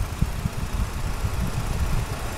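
A 2017 GMC Acadia with a 3.6 liter V6 engine running at idle, a low, steady rumble with uneven pulsing throb, close and alone.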